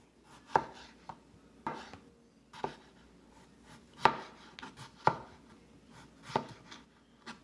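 A knife chops through raw lamb chops on a cutting board, cutting them to roughly a quarter inch thick; about eight sharp, close knocks land at uneven intervals with quiet pauses between them.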